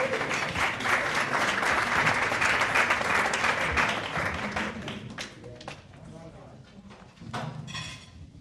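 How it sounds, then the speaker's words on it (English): An audience at a live AI fireside exchange event applauds to welcome a speaker named Vivian, a dense, loud round of clapping that holds steady for several seconds, then thins out and tapers toward the end. "a warm round of applause"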